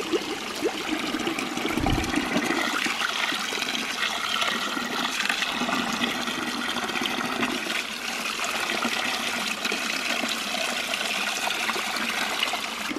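Water gushes and drains steadily from a bucket after its bottom drain plug is pulled at a ram pump setup, a continuous rushing, trickling flow that stays loud and close throughout, with no talk.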